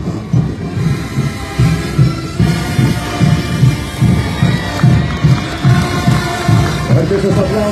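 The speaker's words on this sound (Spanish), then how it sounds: "Esos aplausos." A crowd at a national schools' marching band presentation cheers and claps while a pulsing, regular low rumble, like drumming, beats underneath throughout, loud and close.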